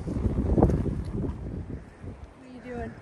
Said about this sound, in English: It is quite windy, folks.